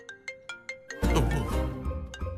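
A phone rings with an incoming call, several short repeated electronic tones in a steady rhythm, quickly overtaken by a louder burst of background music.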